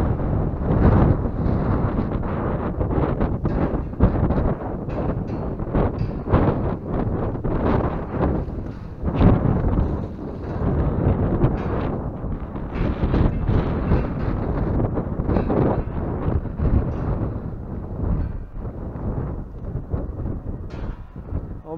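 Strong gusts of wind buffet the microphone in loud, uneven rumbling bursts while climbing a chimney, with no talking.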